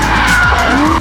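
A drifting car's tires squeal in a loud, close skid for about a second, with the engine roaring underneath.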